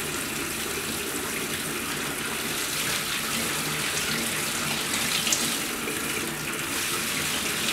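Hot water gushes steadily from a faucet into an outdoor utility sink, a constant hissing splash at moderate level with no talking.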